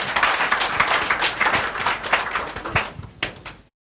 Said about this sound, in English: Make one clap for her.